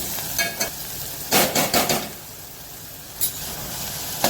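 Onion, garlic and green chilies sautéing in a pan for a Gujarati moong masala, a steady hiss of frying broken by a few short bursts of stirring scrapes, close and clear with no talking.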